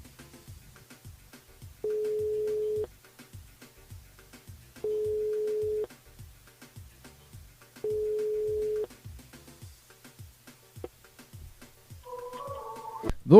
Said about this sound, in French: On appelle Evelyne du côté de Saint-Denis ce matin.